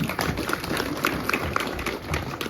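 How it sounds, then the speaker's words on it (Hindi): An audience claps steadily through a Hindu religious discourse in London, forming a dense, continuous patter of many hands at moderate volume with no voices over it. "तालियां बजाओ जरा उनके लिए।"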